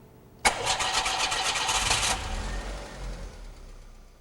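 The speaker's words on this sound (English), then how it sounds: "Now, start the engine." An Audi engine with a CIS-Motronic fuel injection system cranks and catches after a short silence, a loud starter burst settling into a steady idle that fades slightly, with no talking.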